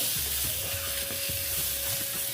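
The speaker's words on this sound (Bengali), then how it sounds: "একটু ভালো মতো ভেজে নেব" Pointed gourd (potol) frying with sesame in a pan, a steady close hiss of sizzling oil with soft scraping stir strokes recurring underneath and a faint constant hum.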